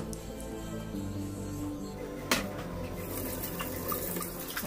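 Tap water runs steadily into a sink while a filter is rinsed under it. The stream is soft and continuous, with splashing and a brief clunk partway through.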